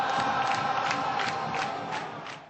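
Vasco football fans fill São Januário stadium with a steady roar of massed cheering and chanting, rising in rhythmic swells from a large crowd at a distance.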